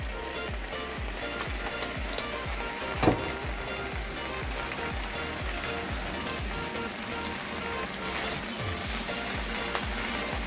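Rice stir-frying with vegetables in a pan, a dense continuous sizzle with repeated rhythmic scraping and tossing of a spatula, one sharper clack partway through, no voices.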